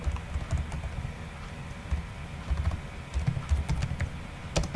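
Rapid keystrokes on a computer keyboard while coding an HTML/CSS/JS slider, a close, steady patter of quiet clicks in uneven bursts with no talking.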